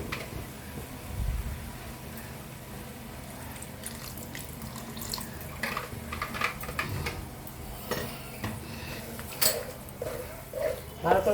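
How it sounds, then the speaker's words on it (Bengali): A little water pours into a pot of mutton masala curry, a light running splash with clinks of utensils and a few scraping sounds, under a person speaking. "অল্প একটু জল দিয়ে দিচ্ছি।"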